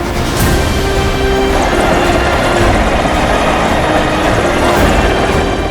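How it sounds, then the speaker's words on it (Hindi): A political leader's helicopter during election rallies flies overhead as a loud, steady rotor roar with a continuous mechanical whir. It holds constant and close from start to finish, with no speech. "आकाश की बुलंदियों पर नेताजी के उड़ते हेलीकॉप्टर होंगे।"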